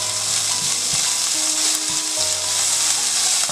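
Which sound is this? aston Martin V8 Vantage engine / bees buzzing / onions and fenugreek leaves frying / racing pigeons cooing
onions and fenugreek leaves frying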